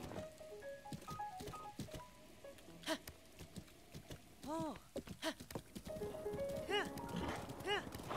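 Horse hooves clip-clopping in the video game The Legend of Zelda: Breath of the Wild, a quick uneven run of steps under in-game music with tonal chimes, fairly close and moderately loud.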